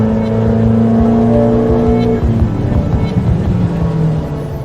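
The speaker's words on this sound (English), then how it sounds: "we're going to do some more dyno runs" A 1.6-litre turbocharged car engine running on 102 octane fuel drones loudly on a dyno, holding steady harmonic tones before the pitch shifts and roughens midway, with no voices.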